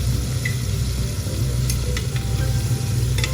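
Chicken tenders frying in a pan, a loud, dense sizzle with a constant low rumble underneath and a few faint clicks from the pan.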